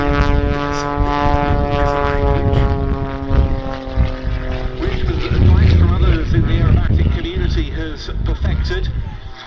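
A Pitts Special aerobatic biplane flying at the Duxford summer air show, its steady droning propeller engine heard throughout with a commentator talking over it on the PA.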